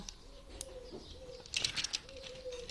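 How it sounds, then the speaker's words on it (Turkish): Soft, low cooing calls from pigeons or doves repeat a few times, with a brief flutter of wings in the middle, fairly faint and distant. "Kukuk kuk diyor kuşlar."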